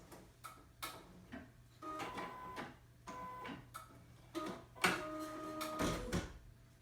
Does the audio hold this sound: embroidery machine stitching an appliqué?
yes